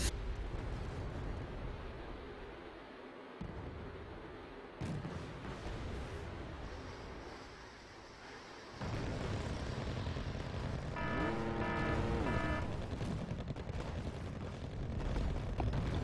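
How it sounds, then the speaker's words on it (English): A cluster bomb strike in Wargame Red Dragon produces deep, rumbling explosions, then a sustained loud roar and a rapid string of crackling bursts. "Calling in a cluster bomb strike on this."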